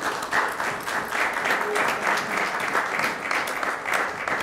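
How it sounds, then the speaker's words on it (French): A church congregation applauds in a lively, rhythmic wave of many hands clapping, steady and fairly close, with a faint voice beneath. "Vous voyez comment vous applaudissez?"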